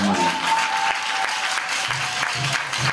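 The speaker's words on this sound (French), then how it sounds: "Applaudissez pour vous." An audience claps throughout as a steady, dense burst of applause, with faint voices and a low hum beneath.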